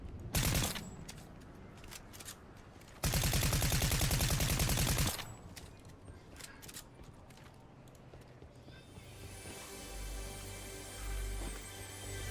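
Gunshots in Fortnite: a few sharp cracks followed by a sustained two-second burst of rapid fire, then scattered lighter shots and game ambience, moderately quiet overall.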